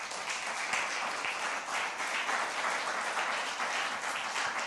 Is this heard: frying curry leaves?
no